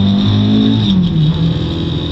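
Rear-wheel-drive rally car sliding sideways through a tarmac corner, engine note dropping under braking then holding a steady throttled drone, close and loud.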